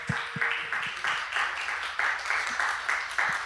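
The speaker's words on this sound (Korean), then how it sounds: "박수로 환영하겠습니다" Applause from a church congregation during a Sunday worship service, heard as a rhythmic, fairly steady clapping of a modest crowd that continues alone for a few seconds.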